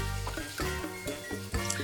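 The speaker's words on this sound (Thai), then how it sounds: "ผัดให้ปลาแซลมอนสุกค่ะ เนี่ยค่ะผัดให้สุก ผัดให้เหลืองหอมไปกับกระเทียมเลยนะคะ" Stirring and scraping in a hot pan with steady sizzling of salmon frying with garlic for salmon fried rice, a few louder clanks of a utensil against the pan.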